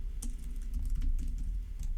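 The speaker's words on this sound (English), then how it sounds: "if I can type John Boy" Rapid typing on a computer keyboard, a dense run of key clicks and taps over about two seconds with no talking.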